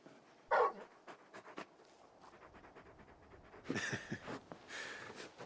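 A big dog in Final Fantasy XVI pants in quick, rhythmic breaths at close range, with a brief whimper-like snort near the start. The sound is fairly quiet.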